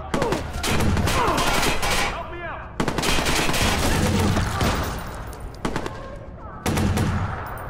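Shotgun blasts and heavy automatic gunfire from a Watch Dogs: Bad Blood firefight come in loud, dense bursts with short gaps between them. Voices speak under the shooting.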